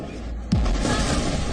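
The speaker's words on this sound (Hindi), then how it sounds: "एक धमाका" An explosion hits in Kyiv during the Russia-Ukraine war, a sudden deep boom bursting over a steady background rumble and holding as a loud, dense roar for the rest of the brief moment.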